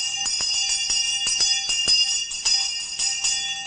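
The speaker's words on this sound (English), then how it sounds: "our correctional officers still use an old-fashioned teacher's bell to call for the count." An old-fashioned hand bell of the teacher's type rings for the afternoon count in a federal women's prison, a rapid series of bright repeated strikes clanging steadily and fairly loud throughout.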